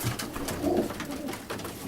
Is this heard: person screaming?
no